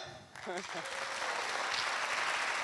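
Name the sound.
audience applause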